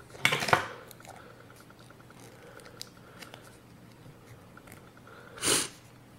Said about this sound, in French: Excusez-moi si vous entendez des petits bruits de reniflement et tout ça, c'est que je suis un peu malade